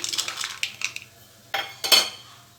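Garlic and rock salt pounded in a stone mortar, a few sharp clacking strikes, irregular and close, with brief pauses between hits.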